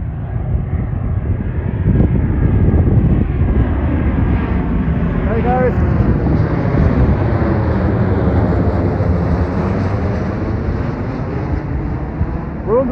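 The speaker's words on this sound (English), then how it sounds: "We'll see a plane go overhead." A loud, steady roar of an airplane passing overhead under an airport flight path near a British GT motor racing paddock, its rumbling engine noise filling the air continuously and slowly shifting in tone.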